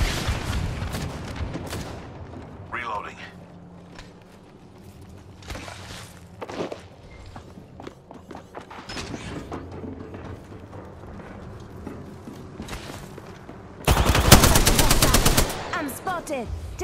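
Gunfire rattles in the video game Apex Legends during an Arenas match, with rapid automatic bursts near the start and a loud, dense volley toward the end, separated by quieter stretches of footsteps and mechanical clicks.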